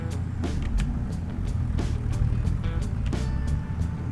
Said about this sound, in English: The old Ford seems to be running pretty good.